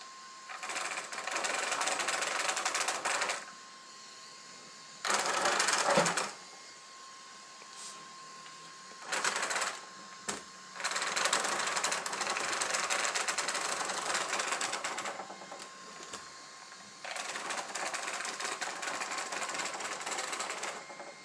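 An RC car with a Velineon VXL-3s motor and speed controller fault gives bursts of harsh buzzing whine that stop and start in uneven spurts, near and fairly loud, with quiet gaps between.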